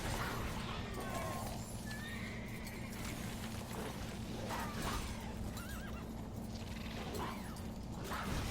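A horse whinnies repeatedly in The Witcher 3 video game, its neighs rising over a steady low mechanical hum and a faint clatter of hooves, with no talking heard.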